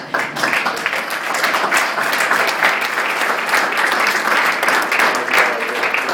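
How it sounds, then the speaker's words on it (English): A round of applause for local MLAs at a Manitoba environmental award event, steady crowd clapping that stays loud and even from start to finish. "let's give them a round of applause"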